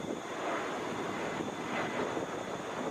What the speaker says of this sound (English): this is Delta 1537. Touching down now, Airbus A321.